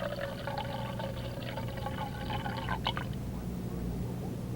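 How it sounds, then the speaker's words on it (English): Milky water carrying fine suspended sediment is poured off after half an hour of shaking in a sedimentation lab demonstration, a steady close splashing pour under a constant background hiss. "After half an hour of shaking, the water is poured off."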